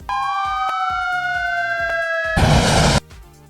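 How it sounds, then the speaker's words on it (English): A fire engine siren sounds loud and close, a rising tonal wail lasting over two seconds with rhythmic thumps beneath, then giving way to a half-second blast of harsh broadband noise before stopping. "fire engine,"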